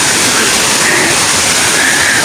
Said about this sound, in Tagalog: Yan yung falls.